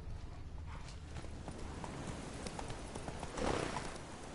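Roach, the horse in The Witcher 3, gallops with a quick rhythmic clip-clop of hooves, close and steady, over light ambient noise, with a brief louder swell near the end.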